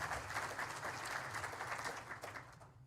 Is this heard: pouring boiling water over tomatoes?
no